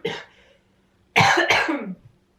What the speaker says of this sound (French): malgré mes quintes de toux